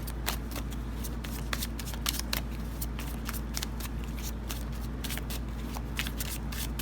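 Tarot cards are shuffled close by, a steady papery riffling with crisp snaps over a constant low hum, lasting several seconds with no speech.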